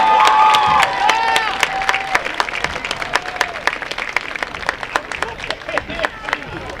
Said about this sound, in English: Let's give a huge, huge, huge round of applause for all of our North Star seniors.